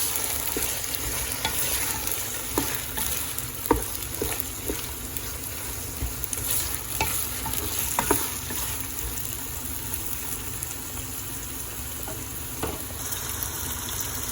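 Onions frying in oil and being stirred in a pan, a continuous hiss with frequent scraping and clinking taps from the stirring, close and moderate in level, with no talking.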